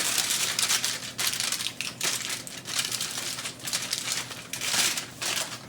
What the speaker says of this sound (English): we just want to get a nice airtight seal in our foil pack here